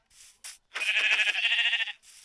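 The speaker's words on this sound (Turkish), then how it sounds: "Biraz yemeğe ihtiyacım var o yüzden koyun keseceğim." Sheep bleating in the video game Minecraft: a few short close bleats followed by one longer wavering bleat, clear and alone, with no talking.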